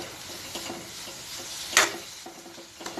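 Bamboo shoot sabji stirred and fried in a pan, a soft steady sizzle with light scraping strokes and one sharp clatter of the spoon against the pan midway.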